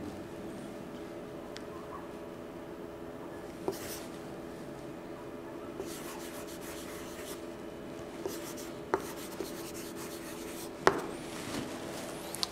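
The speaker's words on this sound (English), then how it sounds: "Let me write one example here." Chalk or marker scratching across a board as an example is written during an English grammar lesson, with soft scattered strokes and a few sharp taps over a quiet room hum.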